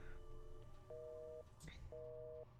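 Telephone busy signal inside the Nancy Drew game White Wolf of Icicle Creek Lodge: two steady, evenly spaced tone bursts over a low background hum, reasonably clear and close.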